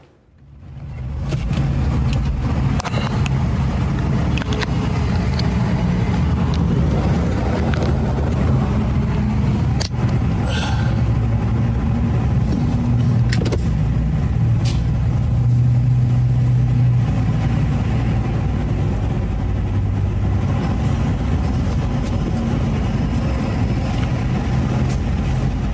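Car interior during a storm chase on the High Plains, with a steady, loud road and engine rumble throughout and rain or wind noise over it, plus a few brief knocks; no talking.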